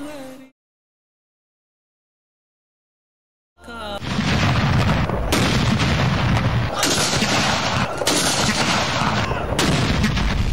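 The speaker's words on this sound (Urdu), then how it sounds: "وفاقی و صوبائی دارالحکومتوں میں توپوں کی سلامی سے دن کا آغاز ہوا" A ceremonial cannon salute fired at dawn in the federal and provincial capitals: after a short silence, heavy booming blasts roll in and continue densely, loud and overlapping, for several seconds.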